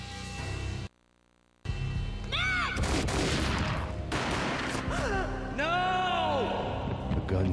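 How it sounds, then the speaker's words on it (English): Gunfire rings out in the Xbox game Max Payne: loud, sharp shots and bursts come amid whooshing slow-motion effects and sweeping tones, after a short silent gap, with voices mixed in. "A gunshot boomed and she fell down in slow motion."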